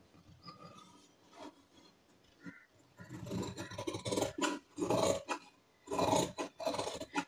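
Scissors cut through blouse lining fabric in short rasping strokes, faint at first and then a close, loud burst of snips and rubbing, with no speech.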